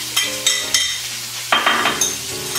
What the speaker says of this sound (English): When you hear that sound, you know that the pan is nice and hot.